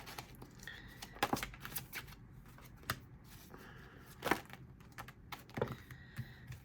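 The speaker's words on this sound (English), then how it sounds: "There are like 10 cards that fell, and I'm not taking 10" Tarot cards shuffled by hand, giving scattered sharp clicks and papery slaps as several cards spill out, close and fairly quiet with uneven bursts and no talking.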